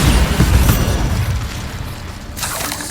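Bombarda blasting spell going off in Hogwarts Legacy, a loud deep boom opening with heavy low rumble and debris that slowly fades, then a second sharper burst near the end.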